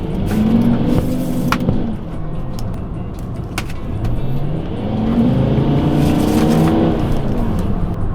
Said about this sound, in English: This thing is equipped with a 5-litre twin-turbo diesel engine. And it's quite fast.